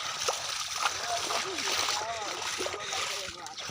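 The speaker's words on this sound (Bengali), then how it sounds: "দেখাচ্ছি কত স্পিডে জল ঢুকছে" Floodwater rushes and splashes into a flooded field of submerged seedlings, a continuous churning wash close by under people talking throughout.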